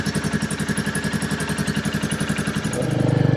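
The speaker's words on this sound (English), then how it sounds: "now what I'm going to do is I'm going to run the bike. I've got it in neutral." A Royal Enfield Meteor 350 motorcycle fitted with a cat-delete exhaust idles in neutral close by, a steady loud thumping pulse that deepens into a heavier rumble near the end.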